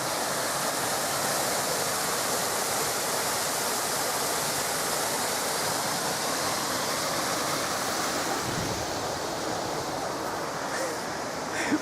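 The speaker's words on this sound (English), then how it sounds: "Getting messy on the river." A river rushes and churns with a steady broadband roar that stays close and constant throughout, with faint wind and no clear speech.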